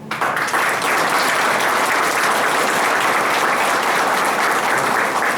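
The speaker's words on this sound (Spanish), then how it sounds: "Mota, el presidente del Colegio de Abogados, a quien le pido un aplauso." Loud, dense applause from an audience honouring the president of a bar association, a steady wash of clapping that holds for several seconds without pause.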